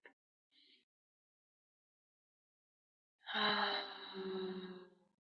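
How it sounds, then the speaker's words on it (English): A slow deep breath taken during an emotional tapping relaxation exercise, a quiet inhale and a longer audible exhale, close and alone in near silence. "Big deep breath into your body."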